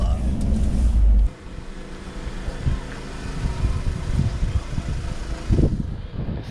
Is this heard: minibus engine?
yes